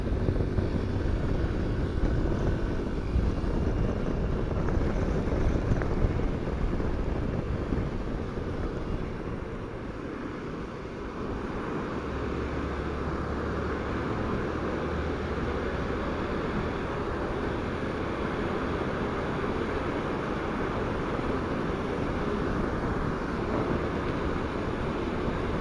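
Motorcycle riding down through the Marcello Alencar tunnel in Rio de Janeiro, a steady loud engine drone and rushing wind roar with echoing traffic rumble, continuous and near, with no talk.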